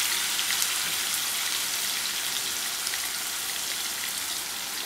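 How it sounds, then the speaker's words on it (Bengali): A teaspoon of ginger garlic paste sizzles steadily in a hot pan while eggplant bharta is cooked, a dense, even crackle with no voices. "পরে এখন দিচ্ছি আদা রসুনের পেস্ট।"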